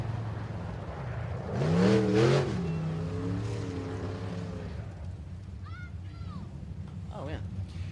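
A race car engine roars past on a dirt speedway during time trials, rising to a loud peak as it passes near, then fading into steady background noise.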